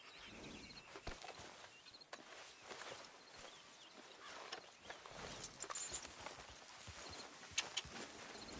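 Horse hooves clip-clop across the ground in a PS4 video game: a faint, irregular patter of hoof beats mixed with light ambient sound, with no voices.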